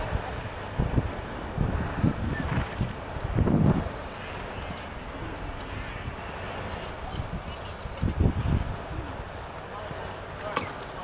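A horse gallops in the open during horseback archery training, its hoof beats coming as muffled, rhythmic thuds. Steady wind rumble and outdoor noise sit over the hooves at middling loudness.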